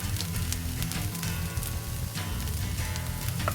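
Hash browns sizzle on a Blackstone griddle, lightly dusted with seasoned salt, giving a steady, close crackling hiss that holds even throughout with no talking.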